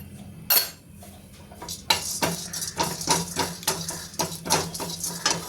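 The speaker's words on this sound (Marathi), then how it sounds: "तर आता या सूर्यफुलाच्या बिया आणि मगज बीसुद्धा आपण चांगलं परतून घेऊयात" Sunflower seeds and melon seeds are roasted and stirred in a pan, with repeated close scraping and clattering of a metal spoon against the pan in an uneven rhythm, no voices over it.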